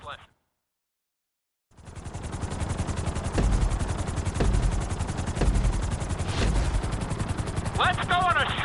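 A helicopter in a PS4 video game flies through a city tour lesson, its steady rotor drone and rumble continuous and loud after a short silence, with bursts resembling gunfire mixed in.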